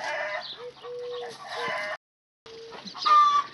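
Chickens cluck and cackle loudly and close by, in bursts with a short pause in the middle, a sharp squawk rising near the end.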